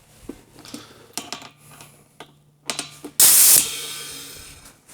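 Compressed air from an air hose driving a tool in a Harley Shovelhead workshop: scattered clicks and clanks, then a sudden loud, sustained hiss of rushing air.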